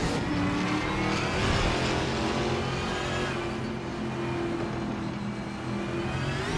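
Race cars roar around a track with a Chevrolet Camaro leading, engines droning steadily at high revs with shifting pitch as cars run close together, loud and continuous.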